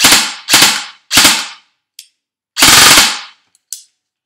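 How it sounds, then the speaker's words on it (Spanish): King Arms M4 RIS airsoft rifle firing in semi-auto, loud close sharp bursts: three quick shots, a pause, then a longer blast, each trailed by faint mechanical clicks. "Dispara dos veces en semi."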